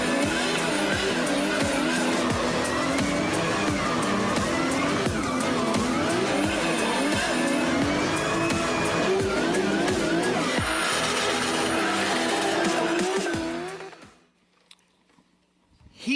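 A race car driving laps on a track, engine rising and falling through gear changes with tire squeal, loud and continuous before cutting out near the end.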